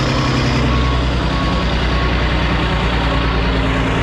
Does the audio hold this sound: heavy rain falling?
no